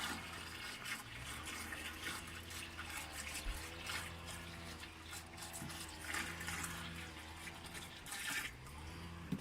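Water pours steadily from a large plastic bottle straight onto plant roots in an allotment garden, a continuous close splashing and gurgling with no voices.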